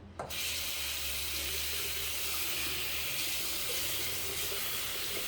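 A razor being rinsed under a running tap: a steady, full rush of water pouring into a sink, close and constant for the whole stretch.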